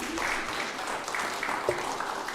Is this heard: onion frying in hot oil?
no